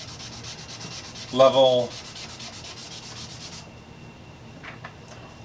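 Brown Angelus leather dye rubbed onto wood with a rapid rhythmic scrubbing rasp for a few seconds, then stopping, with a brief spoken word partway through.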